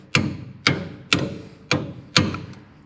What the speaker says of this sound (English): So just try to hammer back and forth.